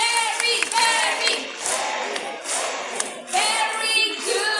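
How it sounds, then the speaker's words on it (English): A bird show crowd at Jurong Bird Park, Singapore, chants a green-winged macaw's name over and over while clapping, loud rhythmic group shouts in bursts with applause underneath. "Simply clap your hands and shout his name."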